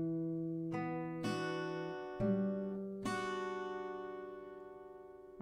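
Slow acoustic guitar chords ring out one at a time, each struck cleanly and left to sustain and fade before the next, ending on a long decaying chord.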